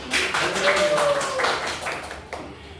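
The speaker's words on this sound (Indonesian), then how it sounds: "Oh ya, beri tepuk tangan untuk Mbak Hani dan Mbak Desi." Classroom applause during a ninth-grade lesson, a short burst of students clapping that fades out toward the end, with some voices underneath.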